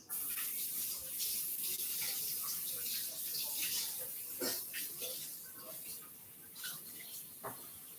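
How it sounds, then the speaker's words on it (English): A kitchen tap runs steadily while hands are washed beneath it during breakfast cooking, a continuous close hiss with small splashes and shifts in the flow. "I'm gonna wash my hands."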